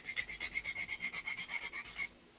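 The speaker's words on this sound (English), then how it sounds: "The 120 sanding sponge is really," A 120-grit sanding sponge scrubs back and forth against a surface in about fifteen quick, even rasping strokes, close up, then stops.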